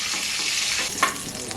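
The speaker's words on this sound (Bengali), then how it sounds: "তেল গরম হয়ে গেছে, এবার মাথাটা ভাজা নেব।" Fish heads rubbed with salt and turmeric frying in hot oil give a steady, close sizzle with a brief spatter near the middle, and no voices.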